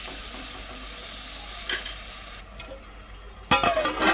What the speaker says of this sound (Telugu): నేను టమాటా ముక్కలు వేసేసుకుంటున్నాను